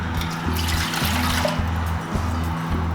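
Room-temperature well water runs from a kitchen sink tap into a mixing bowl while French bread dough is being made, a steady close trickle that lasts about three seconds over a low hum.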